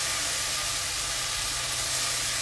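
Fish sizzles steadily in hot oil in a pan, frying as it slowly turns crispy, a loud, even hiss with no talk.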